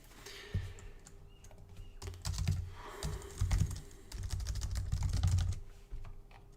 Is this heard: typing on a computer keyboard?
yes